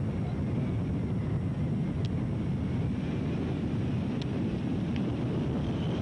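Wind rushes and buffets against the microphone at a road cycling race in a constant, low roar, with a few faint high chirps over it.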